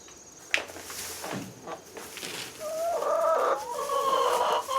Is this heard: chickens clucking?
yes